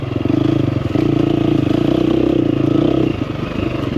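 A 2024 KTM 350XCF Factory Edition dirt bike engine runs loud and close while riding, holding a steady buzzing drone with a brief dip in revs near the start and easing off toward the end.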